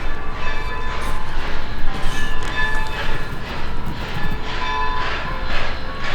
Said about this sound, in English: Look behind you, the steam train's coming.